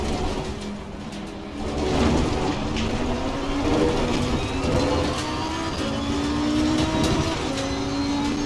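Lamborghini Super Trofeo race car accelerating at Monza, its engine note climbing in pitch through rising sweeps over a broad mechanical roar, loud and continuous.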